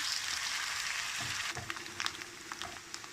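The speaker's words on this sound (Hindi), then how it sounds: "इसको थोड़ा भूनेंगे चिकन को" Chicken pieces frying in a hot pan for a boneless karela chicken dish, giving a steady close sizzle and crackle with a few sharper pops and spatters toward the end.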